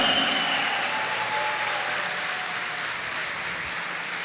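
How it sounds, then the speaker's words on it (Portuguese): A church congregation gives a round of applause during Sunday Mass, a broad, even wash of clapping that fades slightly toward the end, with no speech over it. "Então brada uma salva de palmas para Ele."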